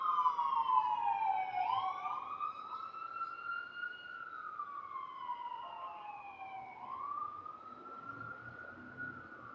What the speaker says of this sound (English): All kinds of sirens.